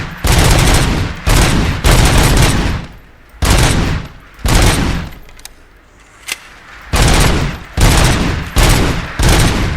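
Loud, close bursts of service-weapon fire in RoboCop: Rogue City come in rapid volleys separated by short pauses, running through most of the stretch.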